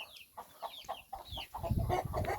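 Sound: chickens clucking

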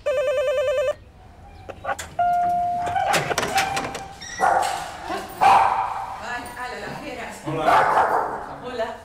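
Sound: dogs barking at the front door

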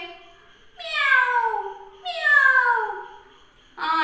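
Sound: children imitating a cat meowing

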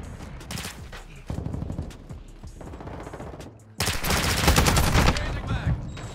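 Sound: gunfire from video game Call of Duty MW2

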